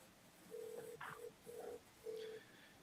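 Touch-tone dialing beeps from an iPhone placing a call, four short steady tones in an uneven sequence, fairly close and clear, with no talking.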